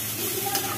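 Taro leaves (kochu shak) are stirred in a hot pan, giving a brief burst of steady sizzling and frying hiss with faint scraping, close up and without talk.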